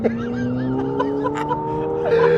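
McLaren 720S sports car on a race circuit in Dubai, its engine note rising smoothly in pitch as it accelerates, heard from inside the car.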